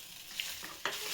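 Food is stirred in a frying pan during home cooking, with soft scraping and a faint sizzle, and two sharper spatula scrapes stand out against the low background.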